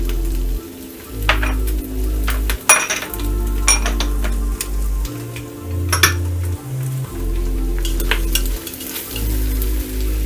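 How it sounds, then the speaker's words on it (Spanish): Chorizo or longaniza fries in a pot for a split pea stew, with steady sizzling under a low hum, broken by frequent clinks and scrapes of a utensil, and no talking. "Tengo que esperar hasta que mi chorizo o mi longaniza esté bien doradita"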